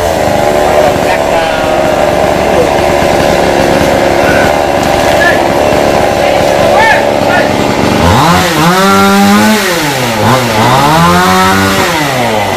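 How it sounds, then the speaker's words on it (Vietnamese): A chainsaw cuts small branches while trimming a large dipterocarp tree at a home, running loud and steady throughout with its pitch swooping up and down as the engine revs under load in the last few seconds. "bên kia cưa nhánh nhỏ nhỏ ra để cho có chỗ trống"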